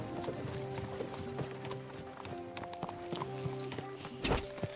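Horse hooves clip-clop steadily in the Kingdom Come Deliverance 2 video game, a quick rhythmic run of hoofbeats close by over game music and ambience, with a louder burst near the end.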